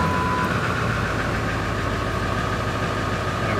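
A cold Ford 7.3 Powerstroke diesel engine idles steadily and loudly up close, a constant low rumble with a clattering diesel edge and no pauses.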